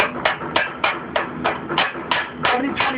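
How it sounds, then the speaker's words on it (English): A chipping hammer knocks slag off a 7024 weld bead in about nine quick, evenly spaced metallic strikes, close and fairly loud. "Now, you can just chip off this slag right here."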